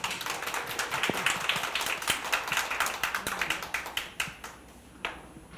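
A seminar audience claps to welcome a speaker to the podium, a modest, fairly quiet round of applause with distinct individual claps that gradually thins and fades toward the end.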